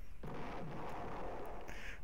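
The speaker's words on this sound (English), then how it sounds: "our explosion animation just keeps playing over and over again" Explosion sound effect from a bomb in a Game Maker maze game, a sudden loud burst that swells into a sustained rumbling roar, filling the whole short stretch without any talk.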